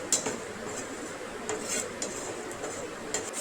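A spatula stirs whole cumin, a bay leaf, a dried red chilli and whole garam masala in hot oil in a pan. The result is a steady sizzling hiss broken by light, irregular clinks and scrapes of metal against the pan.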